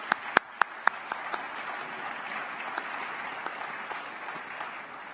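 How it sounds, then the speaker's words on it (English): Audience applause for a panel of NASA leaders at a space symposium, a dense steady wash of clapping from a large crowd, with a few sharp close claps standing out at the start. "Please join me in a round of applause for our panelists."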